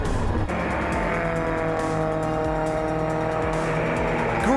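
Race cars roar loudly past at speed, engines screaming at high pitch with tires squealing, one car after another in a continuous blast of noise.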